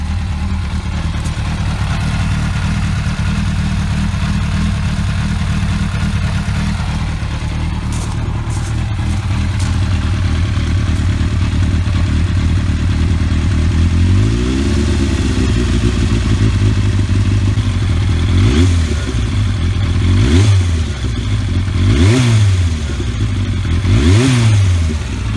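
Yamaha FZR-1000 litre-class sport motorcycle engine, a loud steady idle that gives way to several sharp revs, each rising and falling quickly in a repeated pattern toward the end.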